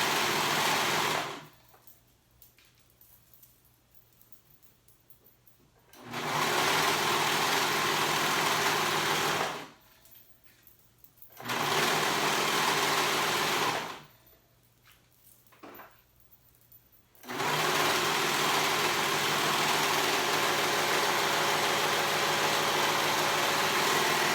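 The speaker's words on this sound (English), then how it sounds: "So now I'm gonna sew that raw edge." Sewing machine stitching the raw edge of a tank top hood, running in three long bursts with quiet pauses between, a steady loud buzzing whir when running.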